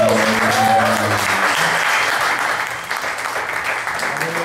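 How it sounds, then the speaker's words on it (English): Audience applause for open mic poets at a poetry slam in Asheville, loud and sustained, with some voices murmuring beneath the clapping. "Can we get a round of applause for all the open micers this evening?"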